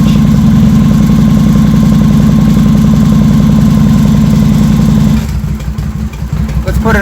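A 2007 Victory Vegas motorcycle engine idles loud and close with a steady, throbbing low rumble that shifts and roughens slightly toward the end.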